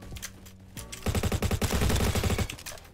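Rapid automatic fire from a Honey Badger rifle in a first-person shooter, a dense sustained burst of loud, closely spaced shots lasting about two seconds, preceded by a few scattered quieter shots.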